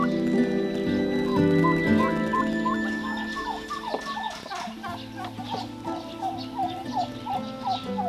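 Turkeys gobble repeatedly in rapid, warbling bursts, with other fowl clucking nearby against a steady outdoor background on a free-range farm.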